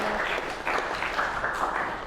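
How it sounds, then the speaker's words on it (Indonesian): A high school class claps for a student, Naura, a brief burst of applause from a roomful of classmates that stays fairly soft and steady for a couple of seconds. "Beri tepuk tangan dulu untuk Naura"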